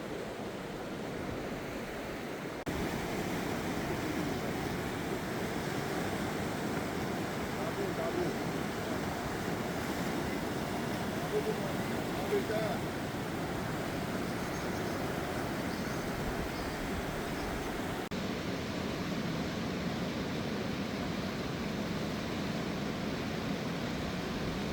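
A roaring mountain river below snow-covered peaks near Kaza rushes in a steady, loud, broadband wash that never lets up, with wind buffeting the microphone.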